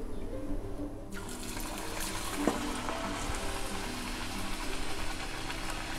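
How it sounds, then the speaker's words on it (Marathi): Pumpkin gharge puris frying in moderately heated oil on a gas stove, a steady bubbling sizzle that grows fuller and brighter after the first second, with no talk. "तर थोडं थोडं आपण हे असं ना मंद आचेवर आपण तळून घ्यायचं आहे"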